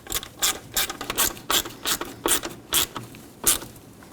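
A hand ratchet clicks in quick bursts while snugging small 10 mm bolts on a fuel-line bracket over the plastic intake of a 1997-2006 Jeep Wrangler 2.4L, about ten short close ratcheting strokes in an uneven rhythm.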